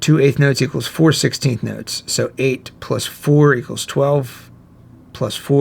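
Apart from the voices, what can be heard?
None of the usual background noises is heard.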